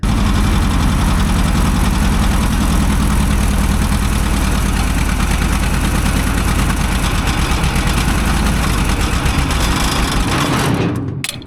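Four-cylinder engine on an old Asplundh JEX wood chipper idling steadily, a loud, continuous low rumble with even vibration that cuts off abruptly at the end.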